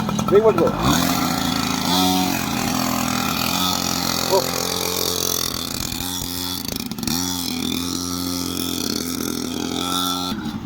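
A dirt bike engine running on a city street, a steady, raspy drone with small revs and dips, close and loud, with people talking over it throughout.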